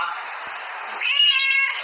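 A cat meows twice in close succession, near and fairly loud, the second call rising longer and more strained than the first, with no talk over it.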